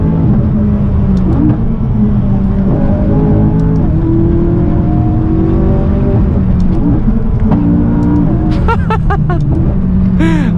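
A McLaren rear-wheel-drive sports car engine roars and revs loudly up close, with a few sharp exhaust pops and crackles near the end.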